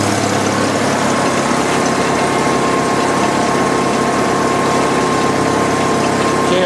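A Jeep XJ's air conditioning compressor, underfilled during an R12 recharge, kicks on amid a loud, steady engine-bay drone, with a thin, constant whine rising in about a second in and holding to the end.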